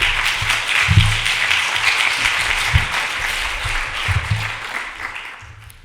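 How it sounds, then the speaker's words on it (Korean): A church congregation gives the arriving pastor a warm round of applause, steady clapping throughout with low thuds and shuffles underneath, slowly fading toward the close. "여러분 나오실 때 큰 박수로 환영해 주시기"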